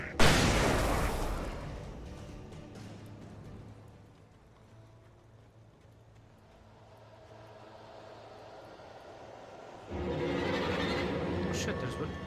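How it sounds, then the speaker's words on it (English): A flashbang detonates in a shadow-people video game: a sharp, loud blast opens, then a rumbling decay fades into low background, and a second bright burst returns near the end. Someone talks over the game sounds. "Flashbang!"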